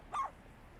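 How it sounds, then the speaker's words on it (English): A single short dog bark in a video game rings out clearly once near the start, then fades into quiet background. "Sorry about the barking."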